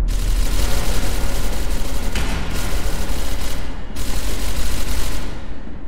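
Grenade blasts in the video game SCP: Secret Laboratory, loud and dense, with sustained roaring bursts broken by two brief dips, sounding like heavy gunfire and explosions.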